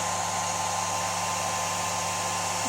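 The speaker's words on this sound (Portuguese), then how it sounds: "O secador aqui" A hair dryer runs steadily at close range for the whole stretch, a loud, even blowing whoosh with a low motor hum and no speech.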